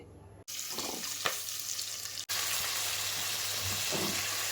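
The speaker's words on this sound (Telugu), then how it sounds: "ఆయిల్ కాగిపోయిందండి ఇందులో కొంచెం ఫస్ట్ మెంతికూర వేసుకోవాలండి" Fenugreek leaves dropped into hot oil for a moong and toor dal curry, a loud steady sizzle that jumps up when the leaves hit the pan and continues close and unbroken.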